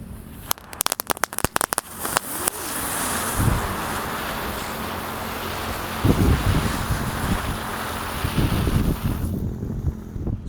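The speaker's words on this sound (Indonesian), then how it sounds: "di sini ada gangsingan roda gila. Kita nyalakan, ada 8 sekaligus guys. Langsung kita nyalakan." Eight spinning flywheel firecrackers are lit at once outdoors. A rapid burst of sharp crackles is followed by a long, loud, steady hissing roar mixed with wind noise, with no talking.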